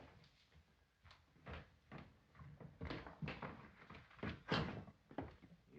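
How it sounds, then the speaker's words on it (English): A back door being hurriedly bolted shut in a 1930s drama, a run of close, fairly quiet knocks, thunks and metallic clacks in uneven rhythm. "Bolt that back door."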